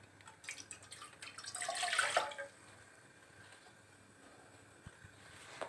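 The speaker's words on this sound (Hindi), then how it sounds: "पैन को चूल्हे पे रख देते हैं और इसमें 2 कप पानी डाल देते हैं।" Water poured from a cup into a pan on a kitchen stove, a brief splashing rush that swells and then fades into quiet room noise with a few small knocks.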